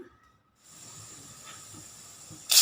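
After a moment of quiet, a steady sizzling hiss of mustard seeds frying in hot oil in a pan starts up, with faint pops and a sudden louder burst at the end.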